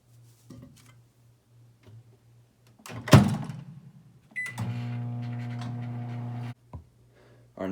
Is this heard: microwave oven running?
yes